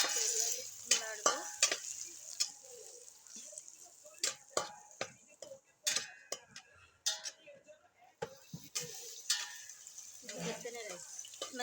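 Food being turned over in a pan with oil as it cooks, heard as intermittent scraping and clacking strokes of a utensil against the pan under a faint sizzle, close and fairly quiet.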